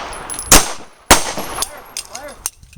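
Pistol gunshots fired during a self-defense shooting drill, two sharp loud reports about half a second apart, followed by quieter clicks, metallic clatter and a faint ringing tone.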